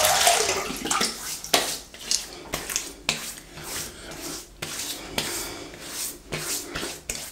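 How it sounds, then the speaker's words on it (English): Water splashes and sloshes in repeated handfuls as the face is wetted before a shave, close and fairly loud, with short bursts and brief pauses between them. "Let's wet the face."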